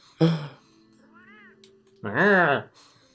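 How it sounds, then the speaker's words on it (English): A cat meows twice, a short cry near the start and a longer, louder rising-falling meow about two seconds later, close to the mic, with a faint voice murmuring in between. "Cat is awesome."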